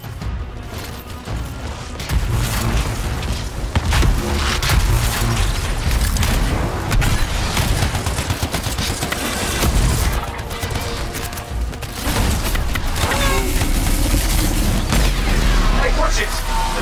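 Heavy gunfire from a large weapon in the video game Anthem, dense rapid bursts and booms over a battle din with explosions throughout, loud and close.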